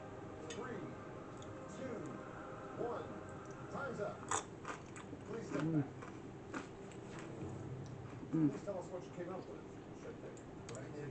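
Close crunching bites and chewing of a crunchy tortilla chip eaten with bean soup, several irregular crisp crunches under a person talking.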